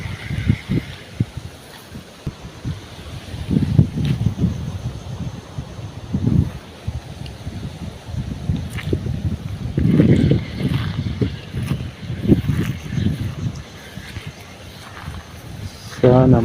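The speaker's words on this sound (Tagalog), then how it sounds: "Lakas ng hangin." Strong wind buffeting a microphone outdoors by the water during a fishing outing, with continuous low rumbling gusts that swell and fade, loudest around the middle and near the end, with a voice speaking over it.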